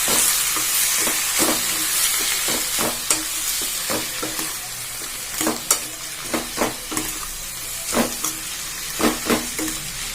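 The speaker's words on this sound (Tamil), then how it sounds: "இப்போ இது நல்லா வதக்கி விட்டுக்கலாம்." Greens for keerai kuzhambu sauté in a hot pan, a steady hissing sizzle punctuated by repeated scraping and tapping of a stirring spoon, close and with no one talking.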